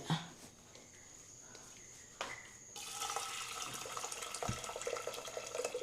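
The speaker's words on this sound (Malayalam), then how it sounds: "വെള്ളം ഒഴിക്കട്ടെ" A few faint clinks and knocks, then water starts pouring into horse gram for a curry about halfway through, a steady splashing rush that continues to the end.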